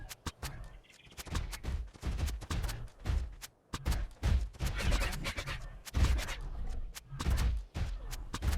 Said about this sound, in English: pelt the Giganotosaurus with trank ammo until it's unconscious